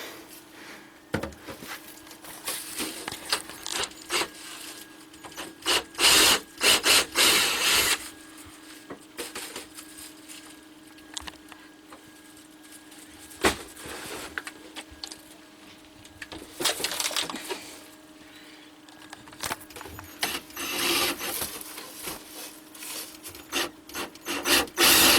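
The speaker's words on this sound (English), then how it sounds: "I'm just pre-drilling because this is really hard wood and it's very tough to deal with." A drill bores small pilot holes for nails in very hard wood inside an off-grid tiny house kitchen, coming in repeated short grinding bursts with quiet pauses between, close by and moderately loud.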